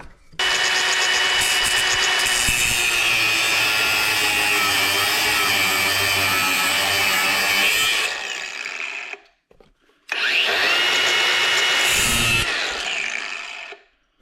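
A power tool grinds steadily through a bolt with a nut threaded on, loud and continuous for about eight seconds, pausing briefly, then cutting again before stopping.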